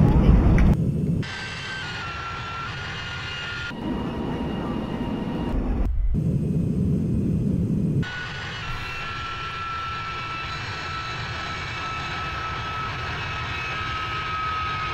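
Airbus A319 engines in the X-Plane flight simulator drone steadily through a climbing turn, a continuous loud jet roar with a whining tone whose level shifts abruptly between segments.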